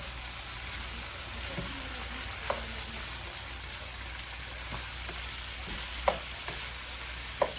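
Pancit bihon noodles sizzling in a frying pan as they are stirred, with a steady frying hiss and scattered sharp scraping clicks of the utensil against the pan, close and fairly soft.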